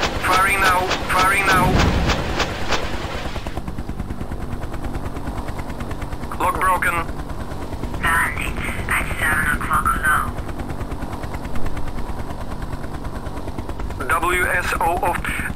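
Attack helicopter guns in the Hind flight simulator game rattle in rapid bursts over a constant rotor and engine drone, with a synthetic cockpit voice calling out warnings at intervals.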